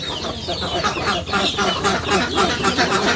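A flock of chickens clucks continuously and loudly close by on a village farm in Bangladesh, with overlapping calls forming a busy, chattering texture.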